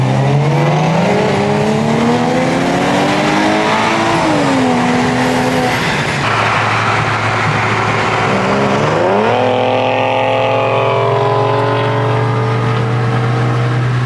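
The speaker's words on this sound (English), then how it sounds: "Sounds like a V8." At a California car meet, a V8 car engine revs hard and loud, rising and falling through repeated climbs with a steady droning note between, close by and with no talk.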